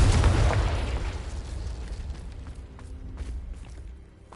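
A Confringo spell explosion in Hogwarts Legacy goes off as one loud, booming blast right at the start, then rumbles and fades over several seconds, with a few faint pops and crackles trailing after.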